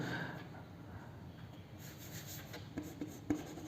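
Marker or chalk writing a sentence on a classroom board: soft continuous scratching strokes with a few sharper taps near the end, fairly quiet and close.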